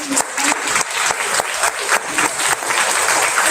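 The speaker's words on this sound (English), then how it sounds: "So can we give him a round of applause?" Audience applause at a summer school graduation ceremony, a steady sustained clapping from a crowd filling the room throughout, moderately loud with dense overlapping claps.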